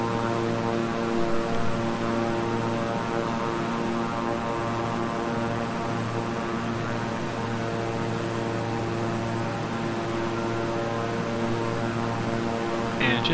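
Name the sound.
King Air 350i twin-engine propeller plane in Microsoft Flight Simulator video game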